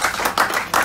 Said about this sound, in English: Yes, round of applause.